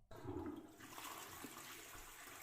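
A toilet flush, played as a sound effect during a live stream intro, starts abruptly with a loud gush of water and settles into a steady rushing drain that carries on to the end, with no voices.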